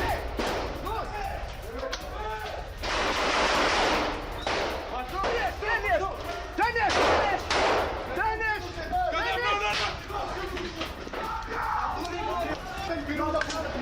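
Bursts of gunfire crack repeatedly during an Israeli army operation in Rafah, sharp reports scattered through the clip under continuous talking by a voice.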